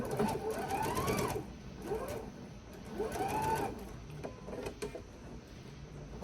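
A sewing machine stitches back and forth using the reverse button on a reversible bag, its quick motor whirr rising and falling in short runs, fairly quiet and steady with no talking.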